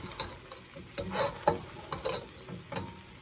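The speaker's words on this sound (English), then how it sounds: "Let's stir these dry spices up in here for a minute" Dry spices being stirred into browning ground meat and onions for Texas chili, a utensil scraping the pan in a series of short irregular strokes over a soft steady sizzle, close and clear.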